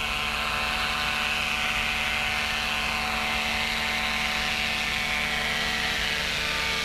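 Throttled-back light aircraft engine droning steadily in flight, flying near stall speed with geese following, a continuous buzzing hum with no voices.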